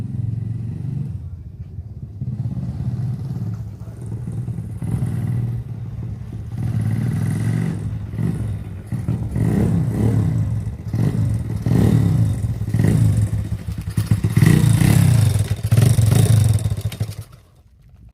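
A YCF 125 pit bike engine runs without choke at close range, loud and rough, the revs rising and falling in repeated throttle blips before cutting out near the end.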